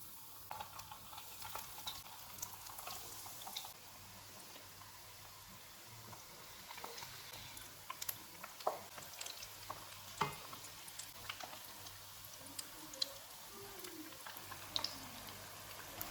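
Chicken cheese drumsticks deep-frying in hot oil over a medium flame, a continuous dense crackling sizzle with scattered pops and small clicks, steady and close, with no voices.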